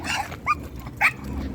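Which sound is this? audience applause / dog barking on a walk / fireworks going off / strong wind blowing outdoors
dog barking on a walk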